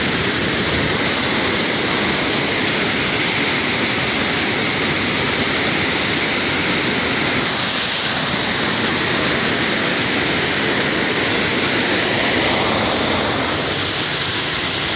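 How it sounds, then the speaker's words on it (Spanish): A waterfall in Arcansas roars as a loud, steady broadband rush of falling water, close and continuous for the whole stretch with no voices heard. "La cascada."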